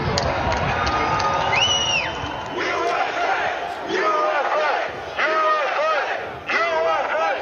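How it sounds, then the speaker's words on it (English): A large crowd of Capitol riot protesters roars and chants outdoors, a dense, continuous mass of shouting voices with rising calls and yells over steady crowd noise. "There's a crowd surge heading east."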